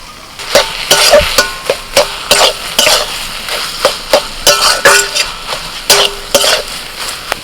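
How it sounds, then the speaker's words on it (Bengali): Prawns being stirred into a banana flower mixture in a pan, with repeated spoon and spatula scrapes and clinks against the metal in an irregular rhythm, close and fairly loud, with no talking. "এবার এর মধ্যে চিংড়ি মাছটা মিশিয়ে দিচ্ছি"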